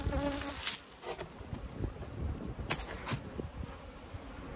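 Honey bees buzz steadily around an open hive during nectar flow, a dense, continuous hum with individual bees whizzing past close to the microphone, and no talking.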